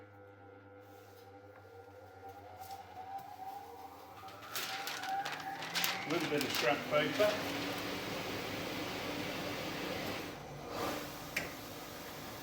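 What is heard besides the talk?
vacuum table suction running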